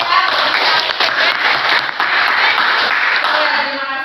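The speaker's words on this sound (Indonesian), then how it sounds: "Kita kasih tepuk tangan ya." A school classroom of ninth-grade pupils clapping together in sustained, dense applause that stays loud and steady throughout.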